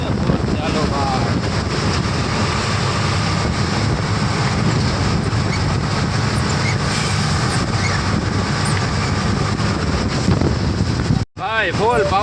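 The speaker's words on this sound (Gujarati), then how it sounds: "ભાઈ ફૂલ પવન ને વરસાદ ચાલુ થઈ ગયો છે." Strong wind roars and buffets the microphone with steady rain-driven noise during a downpour in Surat, continuous and loud throughout, with a brief dropout near the end.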